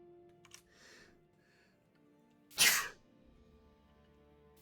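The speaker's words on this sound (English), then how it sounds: "I intentionally sneezed with my mute off there because I wanted to see if the RTX voice would filter out my sneeze" A single sharp sneeze bursts out mid-clip from a player during an online Magic Arena card game, loud and sudden against a quiet room with faint clicks before it.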